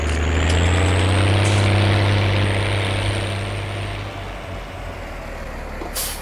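Two tractors drive with a raised harrow, a loud, close, steady diesel engine drone that slowly eases in level, with no talk.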